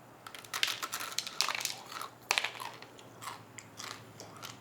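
Loud, irregular crunching of deep-fried ramen noodles being chewed up close, with sharp crackly bursts coming in quick clusters.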